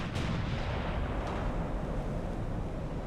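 Naval guns boom in the warship game Ultimate Admiral: Dreadnoughts, a dense, rumbling barrage of heavy artillery rolling continuously with a couple of sharper reports at the start.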